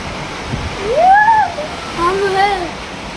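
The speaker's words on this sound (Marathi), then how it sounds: "वादळ ह्या साईडला आहे म्हणून पाऊस अशा साईडनं येतो आहे" Wind-driven heavy rain hisses steadily in the background while a voice speaks over it in the foreground.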